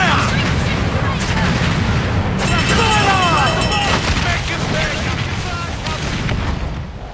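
Ship cannons firing during a naval battle in Assassin's Creed Black Flag, heavy booming blasts layered over loud rumbling combat noise, with shouted voices mixed in throughout.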